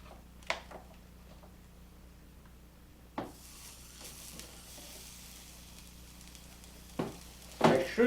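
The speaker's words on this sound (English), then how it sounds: "that does help to remove moisture from the concrete by boiling it out of existence" Hot concrete crackles and sizzles faintly as moisture boils off its surface, a steady low hiss broken by a few sharp knocks and clatters, with a louder scrape near the end.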